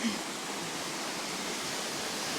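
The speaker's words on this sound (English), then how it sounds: "look how fast that water is rushing down there" Fast river water rushing down below on the Carmans River, a steady broadband hiss and roar without pauses, filling the scene at moderate loudness with no voices.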